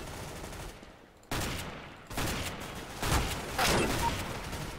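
Bursts of weapon fire from Counter-Strike: Global Offensive, loud and close, arriving in several sharp volleys with brief gaps between them, with a little voice faintly present.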